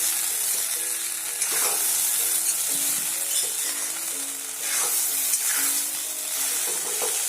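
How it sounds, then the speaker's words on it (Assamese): Banana stem curry with red lentils sizzles steadily in oil in a wok, a continuous close frying hiss with a few swells of stirring and no voices. "কেৰাহীত তেল ওলাই গৈছে।"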